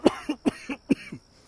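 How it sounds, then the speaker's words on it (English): A close, loud fit of coughing from a sick person: five or six sharp coughs in quick succession, tapering off into quieter breaths. "I'm going to be coughing a little bit here."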